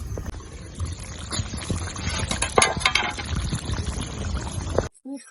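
A pot of hilsa fish curry bubbles and simmers with a close, steady liquid burble after the lid comes off, then cuts off abruptly near the end.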